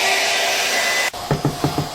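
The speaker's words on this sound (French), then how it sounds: "Maintenant, tu prends le sèche-cheveux" A handheld hair dryer blows a steady broadband whoosh for about a second, then cuts off abruptly, leaving a few short tonal hums behind.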